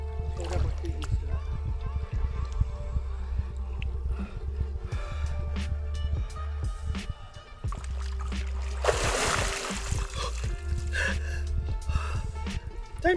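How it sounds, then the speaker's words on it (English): A loud rush of cold water as someone plunges in during winter, with gasps and heavy breathing before and after over lapping water and background noise. "that was a wild dunk, not a swim."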